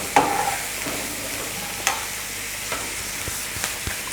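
Steady frying sizzle of sausages fills the pan, with occasional clicks and scrapes of a utensil stirring; no voices.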